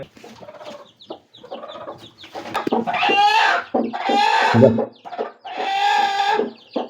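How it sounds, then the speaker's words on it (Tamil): Native country chickens on a farm cluck and call close by, a run of loud, drawn-out squawks and clucks in short bursts, with no talking over them. "எல்லாமே நாட்டுக்கோழி தான் இது கோழி"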